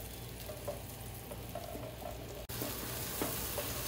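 Potatoes fry in hot oil for a dum aloo dish, giving a dense, even sizzling hiss with faint bubbling, close and steady, briefly dipping before continuing, with no one talking.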